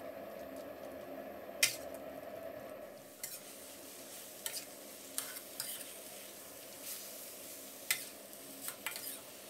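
Pork fat rendering in a pan over a medium gas flame, a constant soft sizzle and crackle with occasional sharp pops and scrapes of stirring, no talk.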